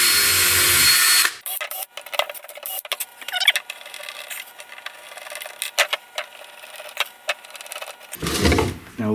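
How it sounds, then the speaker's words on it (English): A power drill bores pilot holes into 3D printed loom blocks in short bursts. Several spurts of motor whine and bit grinding are separated by pauses, close up and fairly loud, with no one speaking. "Let's drill some holes,"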